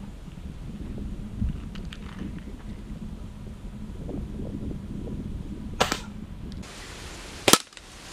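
A Rossi M16 pellet air rifle fires outdoors in wind, with two sharp cracks late on, the second louder and more distinct, over a steady breezy background.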